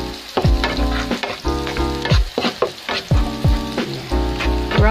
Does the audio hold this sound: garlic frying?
yes